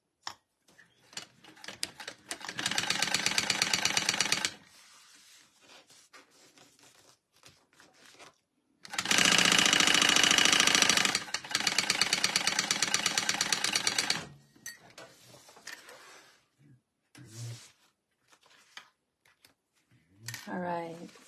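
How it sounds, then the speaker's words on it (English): A sewing machine top stitching a crossbody bag runs in two loud, steady whirring bursts, with soft handling noises and quiet gaps between them. "And top stitch across here."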